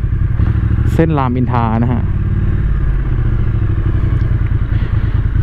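Triumph Street Twin motorcycle engine running steadily throughout, a constant low rumble close by, with someone speaking briefly over it near the start.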